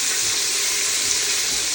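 Garlic, ginger and chilies sizzle steadily in a hot wok, a close, even frying hiss without pauses or voices.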